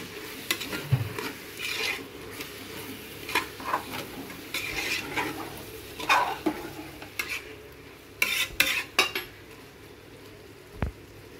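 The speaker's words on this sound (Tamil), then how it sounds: "அடுத்து 1 கப் கெட்டி தயிர் சேர்த்துருங்க. நல்லா கலந்து விட்டுக்கோங்க." Thick curd is stirred into a biryani mixture in a pot, making repeated scraping and sizzling strokes with clinks of a metal spoon against the pot, close and continuous, with no talk.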